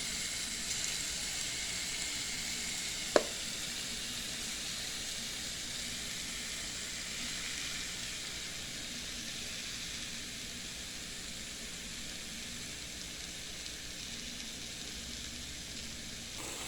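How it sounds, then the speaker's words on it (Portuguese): Rice with carrot sizzles in a pan on the stove, a steady, even hiss that holds throughout, with one sharp click partway through. "E aí agora eu vou colocar nesta panela o arroz."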